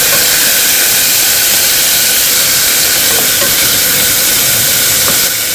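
Onions, curry leaves, mustard seeds and cumin fry in hot oil for Andhra tomato chutney, giving a loud, continuous close hiss with no voices.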